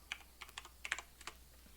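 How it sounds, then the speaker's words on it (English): Fingers tapping a computer keyboard, about a dozen quick, close clicks in short uneven bursts with no talking. "You're going to type in regedit to bring up the registry editor."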